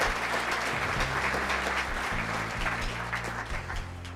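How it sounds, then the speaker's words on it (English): A banquet audience at a small business awards dinner applauds the sponsors: steady, dense clapping that fills the room at an even level from start to end, with a low tonal hum underneath and no talking. "How about a round of applause for all of our sponsors?"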